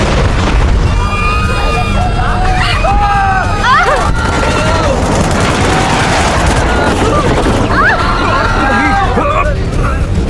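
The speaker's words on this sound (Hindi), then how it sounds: "अभी गोलियां चल रही हैं।" Bursts of gunfire crackle and boom amid loud, overlapping shouting voices and a general din.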